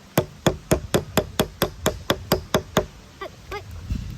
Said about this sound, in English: Let's start chiseling this.